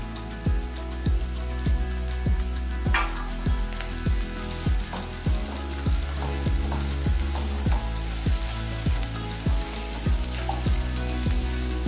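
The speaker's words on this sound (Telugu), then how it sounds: "ఒక కప్పు ఉల్లిపాయ ముక్కలు కూడా వేసుకొని వేపుకోవాలి." A cup of chopped onions frying in a pan for boti pulusu, with a dense continuous sizzle and crackle and a rhythmic tapping of the spoon through it, loud, close and with no one talking.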